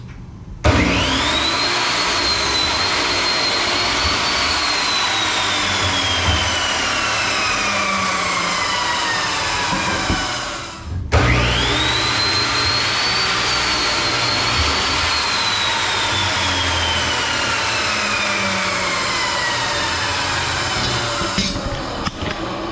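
Power saw cutting wooden side rails for a twin bed, two long continuous cuts each with a rising whine that slowly drops in pitch, loud and close with no talking.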